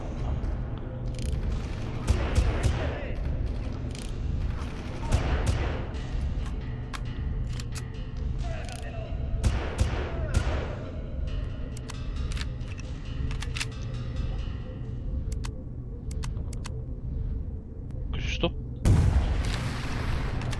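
Gunfire in the PC game Far Cry, several sharp shots and booms scattered among a dense, busy game soundscape, with a loud blast near the end.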